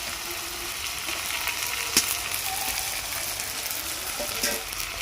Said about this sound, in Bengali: আদা রসুনটা ভালোভাবে ভাজা হয়ে গেছে, আমি এর মধ্যে দিয়ে দেবো টমেটো আর কাঁচা লঙ্কা।